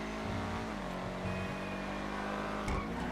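A sports car engine in the video game GTA 5 revs steadily with a rising, throaty tone, loud and close, with no voices.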